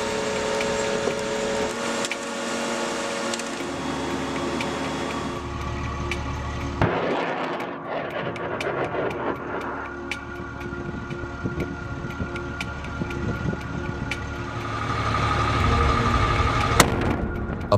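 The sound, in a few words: rocket-propelled C4 mine-clearing line charge launch and detonation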